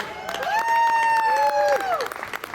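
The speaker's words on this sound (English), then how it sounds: "Give yourself a round of applause." A crowd applauds at an outdoor public Chanukah menorah lighting in Riverside, California, brisk clapping mixed with whooping cheers and a drawn-out shout rising over it for about two seconds.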